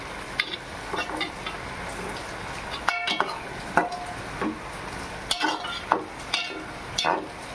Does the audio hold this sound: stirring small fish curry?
yes